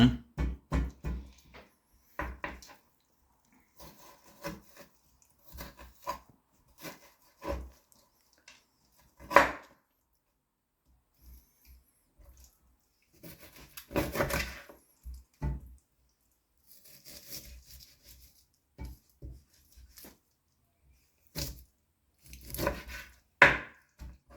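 Irregular knife or cleaver chops through rabbit meat on a board, cut for a village-style gravy, sounding as scattered close thuds and clusters with pauses between them.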